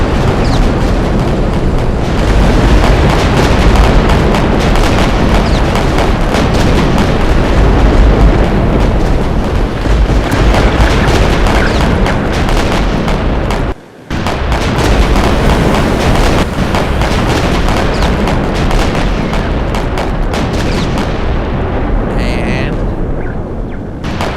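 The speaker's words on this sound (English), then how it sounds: "Dive bombs come out." Dive bombers dropping bombs in the naval game Victory At Sea, a dense, continuous roar of explosions and booming blasts with a brief drop-out midway, loud throughout.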